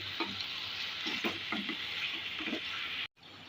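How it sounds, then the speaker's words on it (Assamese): Chicken pieces frying in a pan with about two spoons of soy sauce for capsicum chicken masala, a steady close sizzle with intermittent stirring scrapes of a spatula, ending in a brief cut. "ইয়াত প্ৰায় 2 চামুচ চয়া চচ দিছোঁ আৰু ভালকৈ চিকেনখিনিৰ লগত মিক্স কৰি ফ্ৰাই কৰি ল'ম।"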